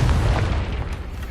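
Spell explosion from the video game Hogwarts Legacy, a single heavy booming blast with deep low rumble that hits at once and decays over about a second, loud and close with no talk over it.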